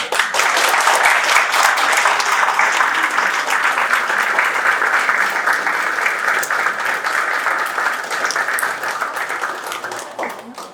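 Wedding guests at an outdoor civil ceremony in Wrocław give the newlyweds sustained, loud applause, a dense crowd of clapping that holds steady for about ten seconds before tapering.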